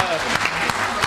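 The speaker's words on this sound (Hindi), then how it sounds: "बहुत बढ़िया, तालियां" Audience applause at a Hindi comedy poetry show (hasya kavi sammelan), a brief dense burst of clapping from the crowd, steady and moderately loud.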